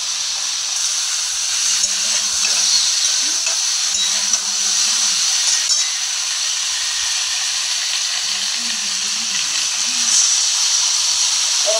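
Mixed vegetables frying in a pan for a cauliflower and fish curry, a steady broad hiss and sizzle running throughout, with faint low murmurs beneath.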